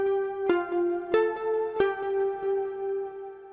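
A bright, bell-like keys tone from the Sylenth1 synth preset Key Icicle in Soundbank 3 plays alone, a few sparkling struck notes with crisp attacks and long ringing sustain.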